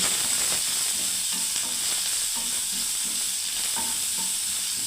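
Onions frying in hot oil in a pan make a continuous, fairly loud sizzle, with stirring scrapes recurring now and then.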